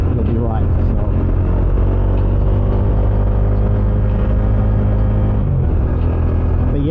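A Bajaj Dominar 400 UG2 BS6 with its stock exhaust, heard while riding: a loud, continuous engine drone and rumble, steady with a slight pitch shift near the end, mixed with wind noise.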